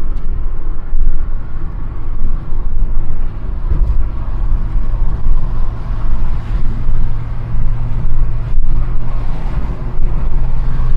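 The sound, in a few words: 1990s Volkswagen Polo Coupe Mk2F accelerating to overtake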